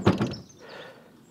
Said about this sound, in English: Put down the tailgate.